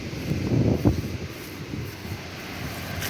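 Strong wind blows at a Konkan beach during kite flying, buffeting the microphone with a continuous low rumbling roar that swells in gusts, with no talking.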